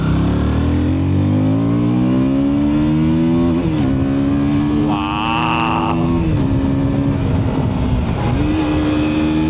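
A KTM Duke 160 motorcycle pulls away after a U-turn, its engine loud and close, revving up in rising sweeps with brief dips at each gear change, no voices.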